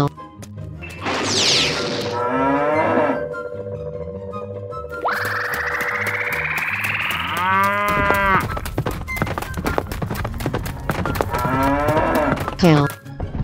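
Cows moo loudly several times in close succession, long drawn-out bellows with a few sharp thunks and knocks between them, and no talking.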